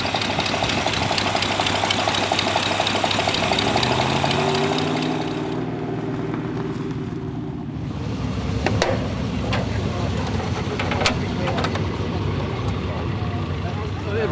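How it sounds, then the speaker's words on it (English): A Triumph Stag with its Triumph engine idles in a steady, continuous drone that dips briefly midway, with faint voices in the background. "I added one with the Triumph engine. I say it works well."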